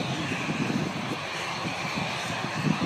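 Red Arrows jet aircraft lining up for a display takeoff produce a steady, broad engine roar that stays continuous and fairly loud throughout, with no talking.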